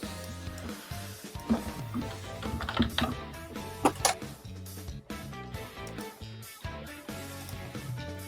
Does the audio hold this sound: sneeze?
no